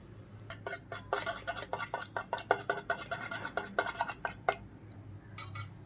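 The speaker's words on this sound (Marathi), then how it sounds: "ते आपल्याला आता फेटून घ्यायचे आहेत थोडंसं मीठ टाकून." Two eggs with a little salt beaten in a bowl, a quick run of close, crisp clinks as a fork or spoon strikes the sides in rapid rhythm, pausing briefly before a final few strokes, with no voices.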